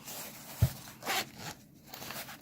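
A zipper on a slim Nintendo Switch carry case is drawn closed in a few short, quiet rasping pulls, close up, with a soft bump at the start.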